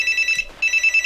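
A telephone rings in a Zelda Twilight Princess gameplay session, giving a bright electronic trill in two bursts separated by a brief gap, loud and steady with no talk over it.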